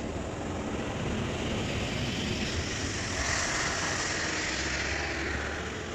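A drone flying overhead near a bridge and road, giving a continuous whirring propeller drone over broad steady noise, holding fairly even throughout.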